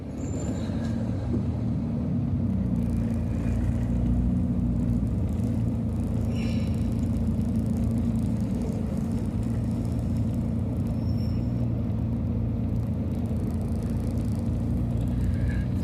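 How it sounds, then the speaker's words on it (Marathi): A bus bound for Bhusawal climbing the Ajanta ghat road in first gear, a continuous low engine drone and rumble that stays steady and close, with faint higher clatter on top. "कंटिन्यू फर्स्ट गिअर गाडी आहे. कंटिन्यू ही चालली बघा भुसावळ बस."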